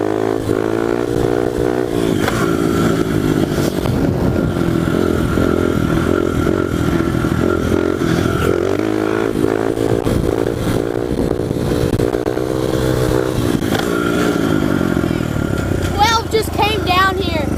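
A pit bike engine on a dirt ride drones loudly and close, its pitch climbing and falling repeatedly as the throttle is opened and eased off, with a sharp rising rev near the end.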